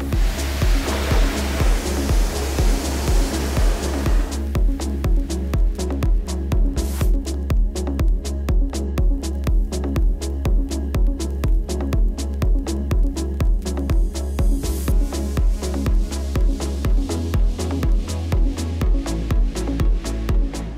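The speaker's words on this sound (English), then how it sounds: "Now, after rinsing it down, you can see that that took care of a lot of that loose dirt and debris." High-pressure water spray from a pressure washer with a 15-degree tip rinsing loose dirt and dust off the wheels of a truck, a steady loud hiss with a pulsing pump throb throughout, no talking.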